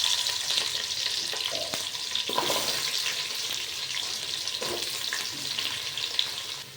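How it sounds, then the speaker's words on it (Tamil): Fennel seeds and small shallots fry in hot oil for a Salem mutton kulambu, a dense close sizzle with a few scraping stirs of a spoon against the pan. "சோம்பு நல்லா பொரியட்டும். இப்போ நம்ம சின்ன வெங்காயம் சேர்த்துக்கலாம்."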